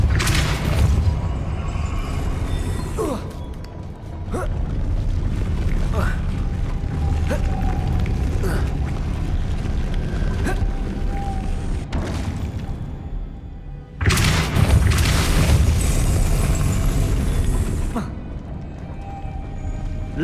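Depulso spell cast in Hogwarts Legacy, setting ancient mechanisms grinding into motion: heavy thumps and creaking, ratcheting machinery rumble in long stretches, with a loud renewed surge midway and a voice talking over it.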